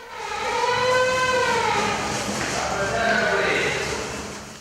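A loud electronic fire station call alarm with wavering harmonics sounds steadily throughout, rising and falling slightly in pitch.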